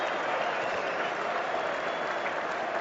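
Cricket crowd applauding at a one-day international at Leeds between England and Australia, a steady even roar of clapping from a large stadium audience, heard at a distance and without a break.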